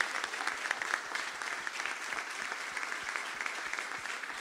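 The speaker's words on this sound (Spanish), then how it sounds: "Que se escuchen los aplausos" Applause from an audience at a political gathering of 78 mayors in Misiones, Argentina, welcoming candidates. Dense, steady clapping from many hands, with no voices over it.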